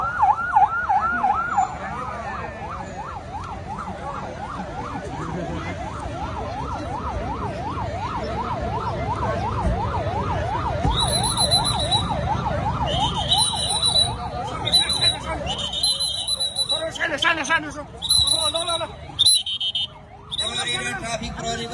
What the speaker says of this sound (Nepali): दर्शक महानुभावहरू देख्न सक्नुहुन्छ प्रहरीको गाडी घटनास्थलतर्फ आइरहेको छ।